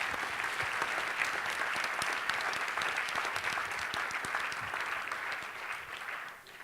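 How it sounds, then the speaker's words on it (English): An audience gives a round of applause at a talk, steady dense clapping from many hands that holds evenly for several seconds and then tapers off at the end. "Can you give them a nice little round of applause?"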